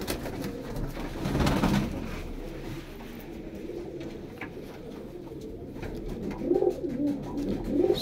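Pigeons with lace-patterned eyes coo close by in a breeder's loft, soft rolling calls repeating through the stretch over a low background murmur, with a stronger burst of cooing near the end.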